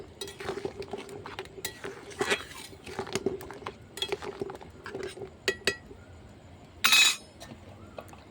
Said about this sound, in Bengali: ডিমটা একবার নেড়ে দেবো।